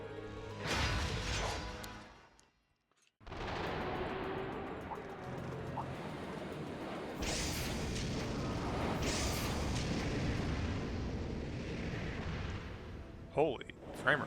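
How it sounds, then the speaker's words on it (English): Booming explosions from the Trails of Cold Steel II video game: heavy bursts that break off into a brief silence near three seconds, then a steady rumbling roar with repeated blasts and crackling debris, loud and dense, speech faintly mixed in. "The explosion's bad."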